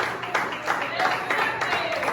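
A church congregation applauding together during a Portuguese-language worship service, a steady wash of clapping with brief swells, heard alongside voices.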